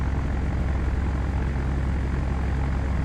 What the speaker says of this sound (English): The DC-3 is a more difficult plane to taxi.